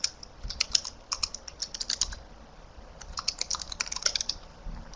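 Quick, uneven keystrokes on a computer keyboard during a web-design software session, close and fairly quiet, in short bursts with brief pauses and no talking.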